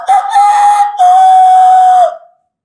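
A person imitates a domestic rooster's crow, one long drawn-out call broken by a brief pause and held on a steady pitch before it trails off, close and very loud.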